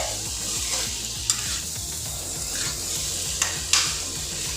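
Cauliflower and potato pieces sizzle with spices in a hot pan while being stirred, a steady close frying hiss broken by scraping stir strokes and a few sharp clinks.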